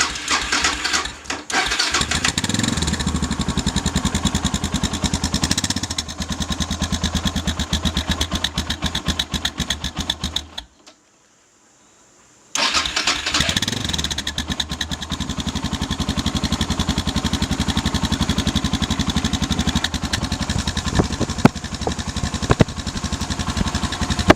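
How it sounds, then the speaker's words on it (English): A motorcycle engine runs steadily with a low rumbling idle, cutting out briefly for a couple of seconds before rumbling on again, loud and close. "let's see what the engine sounds like"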